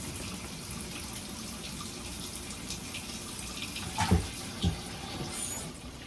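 Tap water running steadily into a pot holding pork steaks in a home kitchen, a soft continuous trickle with a couple of brief louder splashes and knocks near the end.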